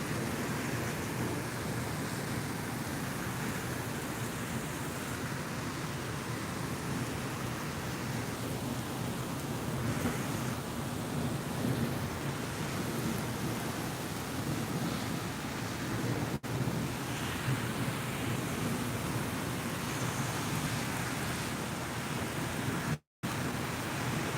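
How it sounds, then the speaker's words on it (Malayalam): Continuous dense hiss of heavy rain falling on a traffic-jammed road in Dubai, steady and enveloping throughout, with a brief dropout near the end. "ഭയങ്കര മഴ തന്നെ ഭയങ്കര മഴ കേട്ടാ"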